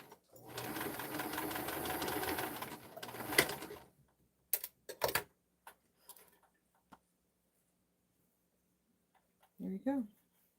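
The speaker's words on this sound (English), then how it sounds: "I'm going to sew all the pieces for both sides" A sewing machine stitches muslin dress form cover pieces in a close, steady buzzing run of about four seconds, followed by scattered clicks and handling knocks, then brief speech near the end.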